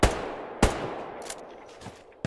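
Gunfire in the shooter game Hell Let Loose comes as two loud sharp shots followed by fainter distant pops and a final crack, with no voices.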